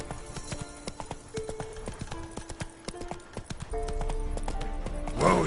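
Roach, the horse in The Witcher 3 video game, clip-clops along in a steady hoof rhythm that grows louder and busier toward the end, with a brief snort or whinny near the close.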